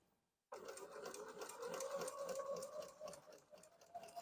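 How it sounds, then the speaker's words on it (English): Bernina 770 QE Plus sewing machine starts after a brief silence and stitches steadily with a fast, even mechanical whir and rapid needle ticking, fairly quiet and close, with a slight slowdown near the end. "the machine hesitated a little bit in the beginning, so that it could do a tie-off stitch"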